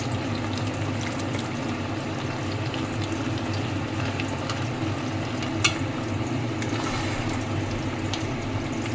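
Tomato paste and mutton cook in a pan with a steady, even bubbling sizzle, close up, broken only by a faint clink or stir now and then.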